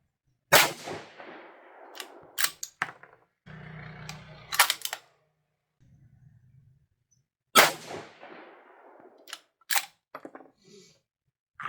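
A 6 GT rifle loaded with 112-grain Match Burner powder fires two loud shots at an outdoor range, each followed by a long echoing tail, with bolt clicks and handling noises between them.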